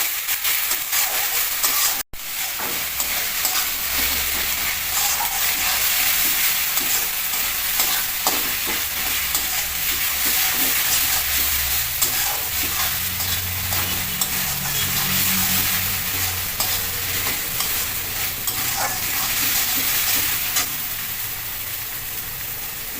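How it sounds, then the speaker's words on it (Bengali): Garlic paste fries in a pan with a steady, loud sizzle, while a spoon scrapes and stirs through it continuously; the hissing carries on without a break for over twenty seconds. "রসুন বাটাটা দিয়ে একটু নেড়ে নেবো"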